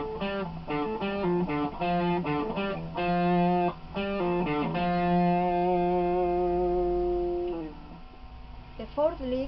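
A distorted electric guitar plays a lick from a song, a quick run of choppy picked notes and then longer sustained ones, heard alone and up close.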